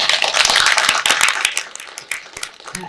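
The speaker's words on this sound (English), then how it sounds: "I think she deserves an applause." An audience at a library panel event claps for the moderator, a loud burst of hand claps that thins into scattered, distinct individual claps toward the end.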